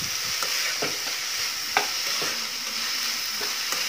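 Ginger and garlic paste is sautéed in a pan, with a continuous close sizzle broken by regular scraping strokes of a spatula.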